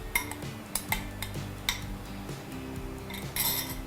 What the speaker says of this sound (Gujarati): હવે આપણે આપણા સોસમાં મેક્રોની એડ કરીશું.